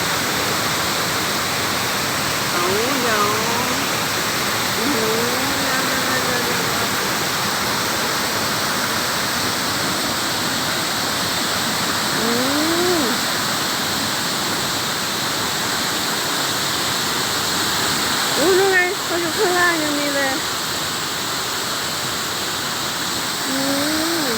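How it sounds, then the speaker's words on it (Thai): Rushing water at Samrong Kiat waterfall forms a steady broad roar throughout, with faint distant voices surfacing now and then beneath it. "ดูน้ำตก"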